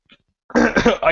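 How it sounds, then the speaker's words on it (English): A single throat-clearing cough, close and fairly loud, preceded by a brief faint click. "I don't know why I coughed there"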